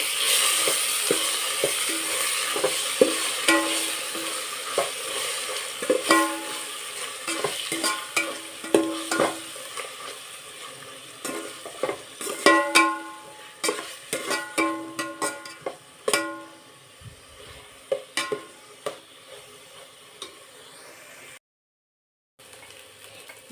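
Ginger garlic paste frying in a pan for chicken biryani, a steady close sizzle broken by repeated sharp scraping and stirring clicks of a utensil against the pan, with no voices and a short silent gap near the end.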